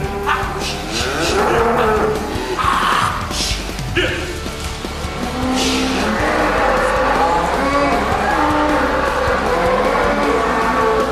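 Beef cows lowing repeatedly while cowboys select and herd them in a busy pen, with overlapping close and distant moos over a steady din of hooves and movement.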